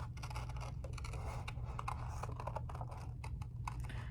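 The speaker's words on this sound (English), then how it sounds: "Now we are going to cut our person out with our scissors." Scissors snip through paper in quick, quiet, repeated crisp cuts, a faint rhythmic clicking as a paper person is cut out for an art project.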